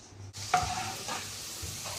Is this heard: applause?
no